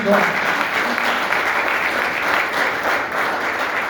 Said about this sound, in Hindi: मैं चाहती हूँ इस सिस्टम के लिए एक जोरदार ताली होनी चाहिए।